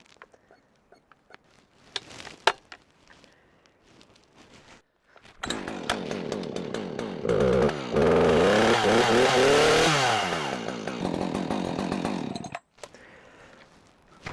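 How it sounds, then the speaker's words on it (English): A chainsaw sputters with a few pull-start attempts, then fires up and runs loud and close, its engine revving and wavering for several seconds before cutting off. "All right, let's grab the chainsaw. Make sure this is running first before we go down and cut that tree."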